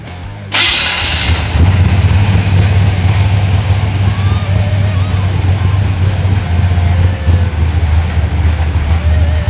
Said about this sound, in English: once the engine comes to an idle